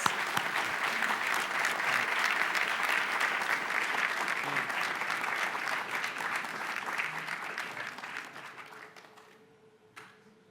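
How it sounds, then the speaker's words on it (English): Steady, dense applause from an audience at the launch ceremony for a knowledge platform, loud and continuous before thinning out and fading in the last seconds. "Please give him a round of applause."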